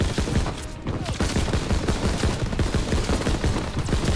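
Dense, loud rapid gunfire from the Call of Duty: WWII video game, overlapping bursts packed closely for the whole stretch with no talk over it.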